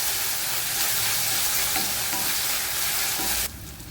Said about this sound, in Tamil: இப்போ இஞ்சி பூண்டு பேஸ்ட்டை சேர்த்துக்கிறோம். அதே 1 நிமிஷம் அப்படியே கலக்கிட்டுக்கிறோம்.